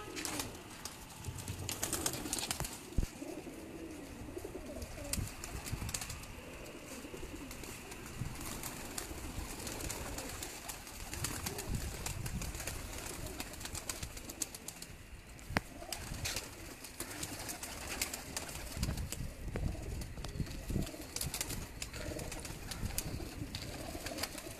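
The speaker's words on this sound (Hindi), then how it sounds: "ये उस्ताद बिनियामिन साहब के ये डब वाले कबूतर हैं मुकम्मल" Ustad Biniyamin's dub-breed pigeons coo softly and continuously, with faint rustling and wing movement around them at close range and no talk.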